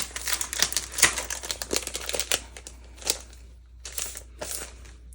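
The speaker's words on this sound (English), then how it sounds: "I'm gonna just take this out of the plastic." Chipboard stickers are pulled from crinkly plastic packaging, giving close, quiet bursts of rustling and crackling with short pauses between handling.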